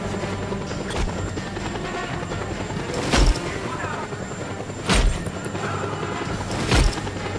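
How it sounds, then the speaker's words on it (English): Steady mechanical rotor drone from a helicopter in the video game Just Cause 2 fills the scene, broken by three loud booming impacts spaced a couple of seconds apart. "That helicopter will tear us to pieces!"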